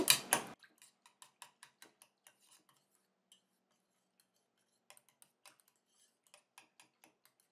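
A spoon stirs skincare lotion ingredients with hyaluronic acid dissolving in water inside a small container. A clattering scrape opens, then light regular ticks and clinks follow, close and faint, with a pause partway through and no voices.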